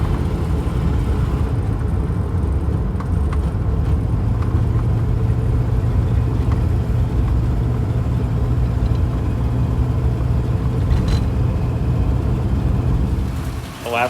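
A 1964 Imperial Crown on a test drive, its engine a steady low rumble with road and cabin noise held evenly for the whole run, close and fairly loud, no talking over it.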